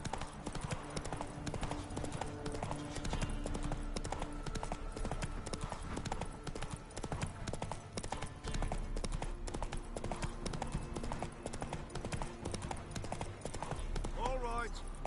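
Horse hooves gallop in The Witcher 3 in a steady, rapid clip-clop that runs continuously throughout, with voices talking over the hoofbeats.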